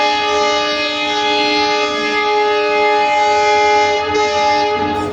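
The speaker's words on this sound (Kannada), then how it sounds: "ಟ್ರೈನ್ ಸ್ಟಾರ್ಟ್ ಅಲ್ಲತ್ತದ, ನಾವು ಬಿಡ್ಲತ್ತೀವಿ." Indian passenger train pulling out of a station, its long steady horn or whistle blaring loud and continuous with strong sustained tones over the carriage rumble, no one talking.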